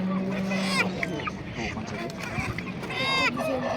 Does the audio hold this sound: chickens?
yes